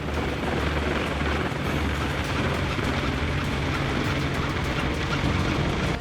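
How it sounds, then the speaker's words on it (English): A CH-53E Super Stallion heavy transport helicopter lifting off a deck, its deep, steady rotor roar and engine whine filling the air continuously, loud and close, with no voices. "CH-53E Super Stallion lifts from the deck with a much heavier mission."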